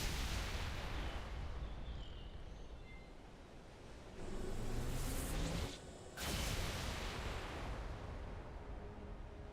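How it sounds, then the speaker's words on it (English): A huge explosion in a modded Halo 3 game, set off by a giant drivable vehicle, roars as a sustained, loud rumbling blast with a brief dip before the roar resumes, and no voices. "That is one big fucking explosion."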